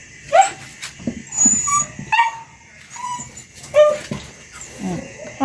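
Pet dog Milo whimpers and yips in short, repeated high-pitched bursts, fairly close. A voice talks between and over the cries.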